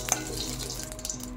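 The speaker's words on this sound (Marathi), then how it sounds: "याच्यामध्ये आपण 1 चम्मच साजूक तूप टाकून घेणार आहोत।" A spoonful of ghee goes into a hot kadhai on a gas stove and gives a brief, soft sizzle and crackle that fades within about a second.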